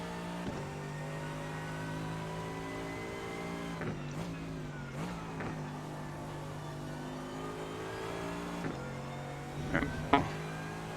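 A GT3 race car engine in the iRacing sim at Road America hums at steady revs, with brief shift blips and throttle changes around mid-clip and near the end, a continuous fairly quiet drone with no talk.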